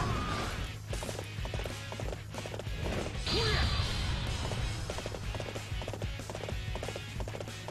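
A horse gallops in the Dynasty Warriors 8 video game, rapid rhythmic hoofbeats clopping steadily under a busy battle soundscape, with a brief whinny-like cry partway through.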